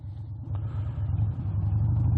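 Low engine rumble from a non-sport motorcycle pulling out of a side road, building steadily in loudness over a couple of seconds as it accelerates hard in first gear, close and continuous.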